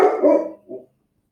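Pet dog barks twice close by, a loud gruff bark followed by a shorter softer one, then silence.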